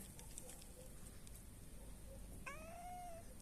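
A cat gives one short, rising-then-falling meow late in the clip, close and clear over a quiet outdoor background with faint scattered ticks.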